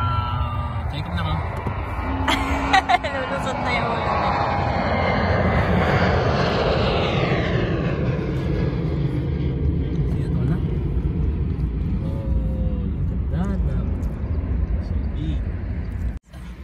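A Qantas airplane passes overhead with a loud, steady jet roar that swells and then slowly fades as it moves away. Faint voices can be heard underneath.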